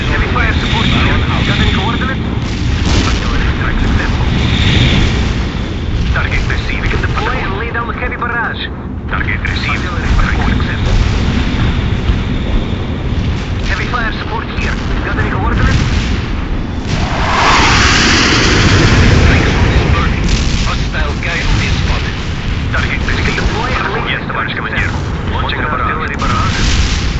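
Artillery strike in World in Conflict: Soviet Assault, a continuous loud rumble of distant booms and explosions with aircraft noise under steady radio chatter.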